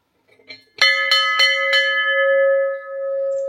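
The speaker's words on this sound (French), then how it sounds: "On va faire sonner la petite cloche." A small bell at a Himalayan prayer flag site in Nepal rings in a quick run of four bright strikes, then one clear tone rings on and fades slowly in quiet surroundings.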